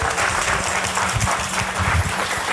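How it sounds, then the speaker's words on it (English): An audience at a company all-hands meeting gives a round of applause: a continuous wash of clapping with a few heavier thumps, steady and fairly loud. "Let's give Gord a round of applause, guys."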